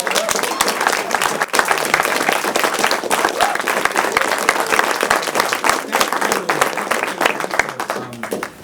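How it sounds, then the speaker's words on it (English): A lecture-hall audience at a talk about Mexican-American students in East LA claps steadily in dense, sustained applause, with a few voices murmuring underneath. "Can we just thank you again with a round of applause?"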